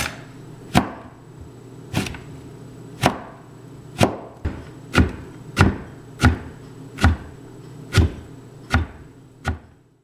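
Knife chopping mineola orange peel into small cubes on a board: about eleven crisp, evenly spaced strikes, close and clear, with no talking.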